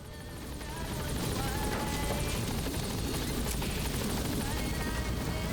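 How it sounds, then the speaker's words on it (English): A helicopter in Metal Gear Solid V: The Phantom Pain swells in over the first second, then holds as a loud, continuous rotor drone with a faint rhythmic chop. "Look at this beautiful helicopter."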